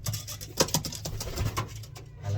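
A blue racing pigeon flutters and shuffles close by, with soft wing patter and light scratchy movements over a low background rumble, no talk.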